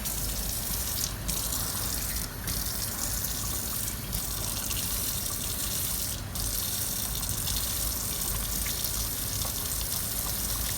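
Excess water pouring off a freshly mixed 50-50 plaster and stone investment in a dental flask, a steady close splashing gush running continuously with a few brief sharper spurts.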